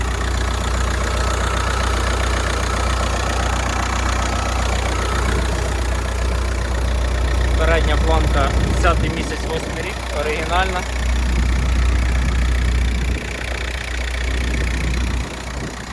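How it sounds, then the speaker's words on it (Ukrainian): A Skoda Octavia Tour 1.9 diesel engine idles steadily with a low, even rumble, while someone talks over it for a few seconds midway. "Робота дизельного мотора."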